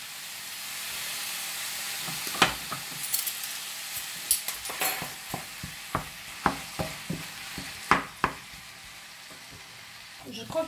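Ground meat frying in a pan with a steady sizzle, while a utensil mashes and scrapes it in a series of sharp, regular knocks and clinks, close and fairly loud over the constant hiss.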